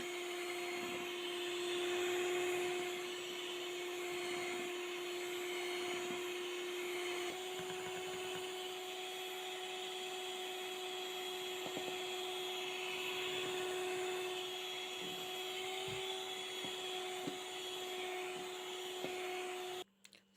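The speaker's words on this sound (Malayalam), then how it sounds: "അപ്പോൾ അത് നമ്മൾ കുമ്പിട്ട് നല്ലോണം ബീറ്റ് ചെയ്യുന്നുണ്ട്" Electric hand beater whisking a sugar mixture in a home kitchen, a steady, close motor whine with an even pitch that runs unbroken and then cuts off abruptly at the very end.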